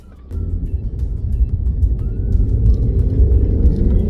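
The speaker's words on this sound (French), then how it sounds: "Si je relâche le frein, vous voyez que la voiture redémarre" A Mercedes E 450 AMG engine restarts after start-stop, catching and settling into a steady low rumble after a near-silent moment, idling close by with no talking.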